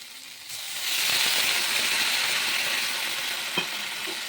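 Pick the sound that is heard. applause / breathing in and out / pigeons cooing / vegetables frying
vegetables frying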